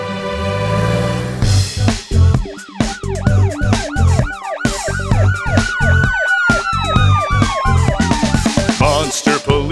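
A cartoon monster police car's siren wails in a fast, loud up-and-down warble, close and continuous over a steady bass pulse of children's music, with a long rising-and-falling whoop through the middle.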